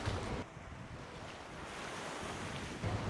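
Waves wash onto a child-friendly beach at Stenderup Hage Strand with fine sand and shallow water, a steady soft surf rush mixed with wind buffeting the microphone, fairly faint and with no voices.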